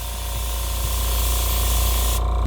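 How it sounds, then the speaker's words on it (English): Airbrush spraying out dark green paint, a steady loud hiss of air and paint running continuously for over two seconds before cutting off abruptly near the end. "I can just spray some of that out and then it'll be my exact color I'm wanting."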